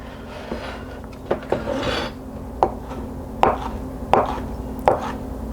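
Chipotle peppers being chopped fine with a knife on a cutting board for raspberry chipotle ribs, roughly eight sharp, irregular thuds over a low background hum.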